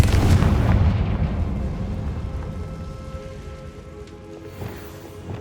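Confringo spell blasts in Hogwarts Legacy: a loud, booming explosion opens the moment, then rumbles and decays over several seconds, with a fainter pop near the end.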